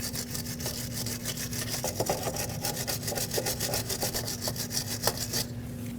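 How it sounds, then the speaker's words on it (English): Wire brush scrubbing rusty threads on a sway bar link of a 2006-2015 Lexus IS250, a close, steady train of fast rhythmic back-and-forth scratching strokes with a constant low hum beneath. "cleaning the threads with a wire brush is going to help since they're a little bit rusty"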